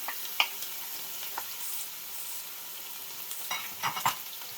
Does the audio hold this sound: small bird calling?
no